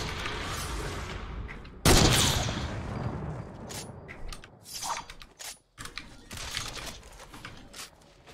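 Gunfire in a Fortnite gunfight: a heavy burst of shots rings out, then scattered, uneven reports and thuds trail off with brief gaps of near silence between them.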